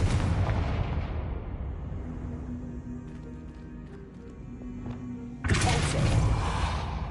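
Confringo fire spell from the video game Hogwarts Legacy, heard as a loud fiery blast at the start, a quieter rumbling stretch, then a second sudden explosive burst near the end.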